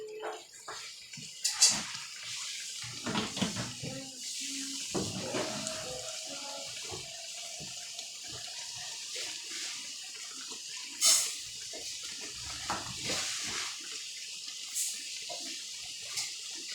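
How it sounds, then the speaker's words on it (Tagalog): Rice is washed by hand under running tap water in a kitchen, with a soft continuous flow broken by splashing, swishing and a few clinks, fairly quiet and close. "Maghuhugas na po ako ng bigas kasi malapit na po siyang maluto."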